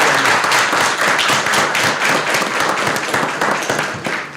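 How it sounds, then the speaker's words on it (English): Enthusiastic audience applause at a school board meeting, dense and loud, a sustained wash of many hands clapping that tapers slightly at the end. "Would you give these amazing students and their parents another round of applause, please?"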